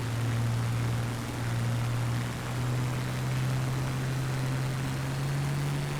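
Spitfire engine throttling up in a flight simulator, a steady loud propeller drone with a low tone that slowly rises in pitch toward the end.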